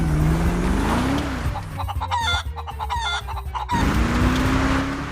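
Chickens cluck in the back of a delivery truck in GTA 5 over a constant engine drone. A short cluster of bird calls sounds in the middle, and the engine rises and falls.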